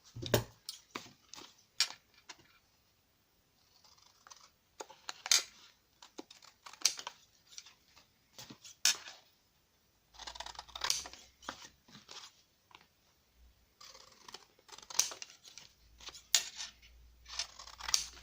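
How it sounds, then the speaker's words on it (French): Scissors cut through a paper box in short, crisp snips that come in uneven clusters, with brief pauses between runs of cutting and faint low rustling of handled paper; quiet and close, with no talk. "on va ensuite découper ici"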